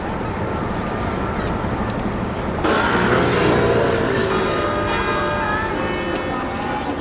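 Church bells at Notre Dame cathedral start ringing partway through, their bright tones rising over steady street traffic noise nearby, with people talking.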